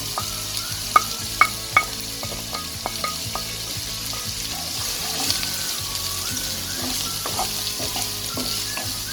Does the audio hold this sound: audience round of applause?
no